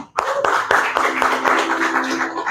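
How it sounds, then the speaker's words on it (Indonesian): A church congregation claps after being urged to applaud a visiting pastor, distinct rhythmic hand claps with a hum of voices underneath, fairly close and steady for a couple of seconds. "Ayo berikan tepuk tangan."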